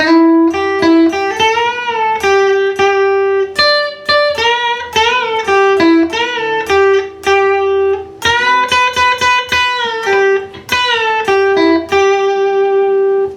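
A distorted electric guitar plays the second section of a song's intro, a steady run of picked single notes and bends, loud and close, with no talking.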